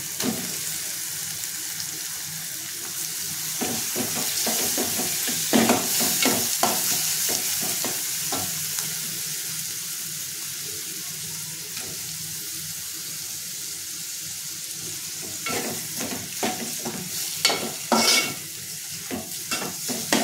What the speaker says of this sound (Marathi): आणि आता आपल्याला ह्याच्यामध्ये कोळंबी टाकून घ्यायची।